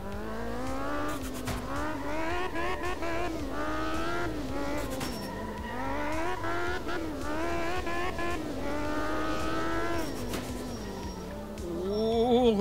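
A rally car in Art of Rally, a Soviet Group S machine, drives on gravel, its engine note climbing and dropping through gear shifts, steady and fairly close, with brief scrabbling bursts near the end.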